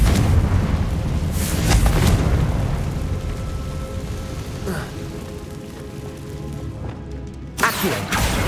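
A blasting spell explosion in Hogwarts Legacy, a loud booming rumble with crackling debris that decays over several seconds before a sharp second burst near the end.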